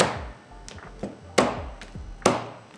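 A knife chops through crab on a cutting board for chilli crab, giving several sharp, hard thwacks at irregular intervals, close and clear, each with a short ringing decay.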